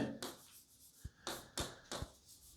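Chalk or marker strokes on a classroom board during a German lesson: a few quick, short scratching strokes with small taps between them, close and fairly quiet, no voices.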